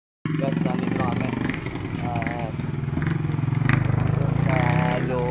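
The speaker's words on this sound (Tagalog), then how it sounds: "Ito yung motor. Parada lang yung motor natin guys." A motorcycle engine idles steadily and loudly up close, its rumble continuous throughout, with voices talking over it.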